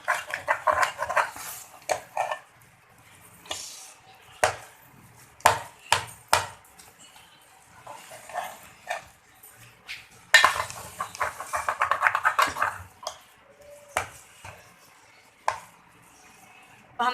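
Mashed potatoes being stirred into spices in a pan for aloo paratha filling, with irregular spoon scrapes and sharp knocks against the pan, some louder bursts of scraping, and quiet gaps between.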